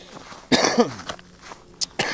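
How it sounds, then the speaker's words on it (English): A single sharp cough bursts out close by, followed by a shorter second cough, then quiet with a faint breath or rustle. "Oh, I got a cough."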